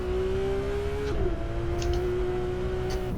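Sports car engine revving under throttle in Assetto Corsa on the Feldbergring, a close, sustained engine note that dips briefly and then climbs steadily as the car accelerates.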